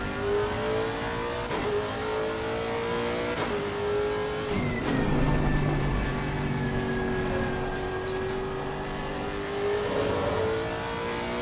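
Simulated GT3 race car at Monza in Assetto Corsa Competizione, its engine droning steadily at high revs with rising pitch sweeps and gear changes, loud and continuous throughout, no talk.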